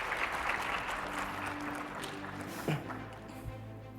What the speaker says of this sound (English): let's give a round of applause for Cole